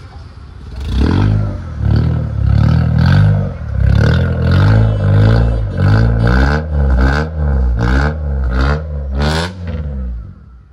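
A fully modified Mitsubishi Lancer Evo 6 with an aftermarket exhaust revs repeatedly, loud close blips that rise and fall in a steady rhythm of about a dozen throttle stabs, each with a rising engine whine.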